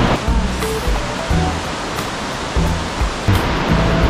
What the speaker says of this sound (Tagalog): So yan, so ayun si Shannon Falls.